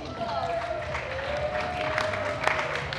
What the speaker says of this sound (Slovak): Poprosím potlesk.